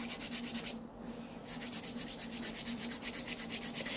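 Quick back-and-forth rasping of a nail file across a French nail tip, a steady rhythmic scratching with a brief pause near the start before the strokes resume, close and fairly soft with no talking.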